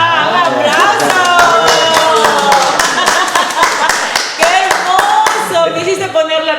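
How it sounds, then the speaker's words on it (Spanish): Applause from a small audience at a podcast with teachers: steady, close clapping that runs the whole time, mixed with voices and cheering. "¡Aplausos!"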